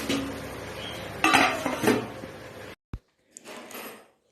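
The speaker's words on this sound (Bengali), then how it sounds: "এবার ঢাকনাটা সরিয়ে নিলাম" A lid is lifted off a pan of small mourola fish curry, bringing a run of metallic clatter and scraping of cookware, then a brief knock, a short gap and a soft hiss of sizzling.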